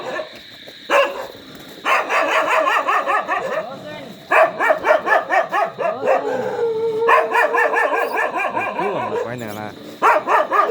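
Dog barking and yipping in a village at night, repeated bursts of barks mixed with whimpers, fairly close, with people talking between and over the barks.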